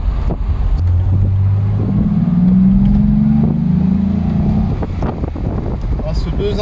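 A Mercedes 280 SL six-cylinder twin-cam engine with manual gearbox revs up steadily, its pitch rising through a sustained climb then dropping back to a rumbling idle, with wind buffeting the microphone.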